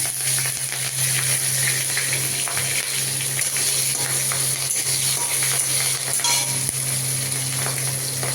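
Cumin seeds and green chilies frying in hot oil in a kadai after fish heads were fried in it, a loud, continuous close sizzle lasting several seconds with faint clicks of stirring.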